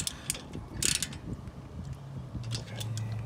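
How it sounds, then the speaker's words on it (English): A ratchet tightening a rear brake bracket bolt on a Chevy Nova axle, giving quick clicking pawl ticks in short bursts, fairly faint and close, over low workshop background noise. "tightening the bolt for the bracket"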